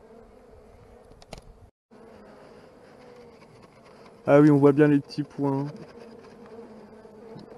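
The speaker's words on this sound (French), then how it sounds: "C'est des belles petites abeilles." A steady buzz of honeybees from a swarm in a pillar hums throughout, with a person speaking briefly over it partway through.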